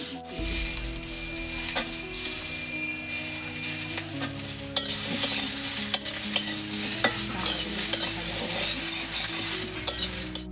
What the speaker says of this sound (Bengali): কলাগুলো দিয়ে দিচ্ছি পরের পর একটা একটা করে দিয়ে একটু একটু করে ভেজে নিয়ে